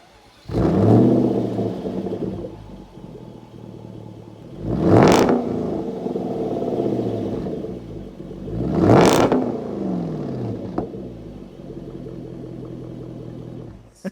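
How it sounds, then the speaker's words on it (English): A car with a modified exhaust revs hard twice, each rev rising to a loud roaring peak before settling back to a rumbling idle, close by. "It has a modified exhaust."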